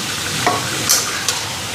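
Potatoes and meat sizzle and fry steadily in a pan, with a few scraping stirs of a utensil breaking through the hiss.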